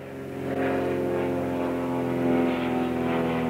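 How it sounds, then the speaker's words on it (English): A propeller airplane passing overhead, a loud steady droning hum with layered tones that swells in after the first half second and holds through to the end, alone without talk. "Wait for that airplane to go by."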